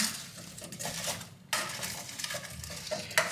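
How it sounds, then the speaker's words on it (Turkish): A spoon stirs a side dish dressed with lemon juice in a pan, making close scraping and clinking against the metal with a brief pause midway and a faint sizzle underneath. "Bunu bir güzel karıştıracağım."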